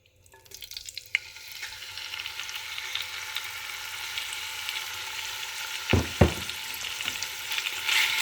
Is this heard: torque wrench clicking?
no